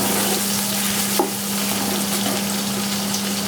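Onions fry loudly over high heat while browning for pilau rice, a dense, steady sizzle heard up close with a single stir or clack partway through and no voices.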